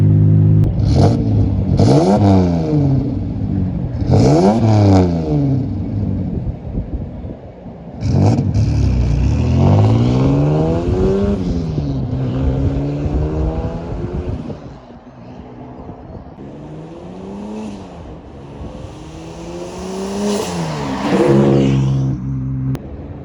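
A turbocharged Toyota Solara engine revs repeatedly, climbing and falling in sharp sweeps, with turbo flutter chattering as the throttle lifts; loud and close, it settles into a lower, steadier drone partway through before building again near the end.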